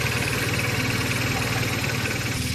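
A motorcycle engine idles nearby, a steady low rumbling beat with a slight knocking pulse over a short stretch, with no talk.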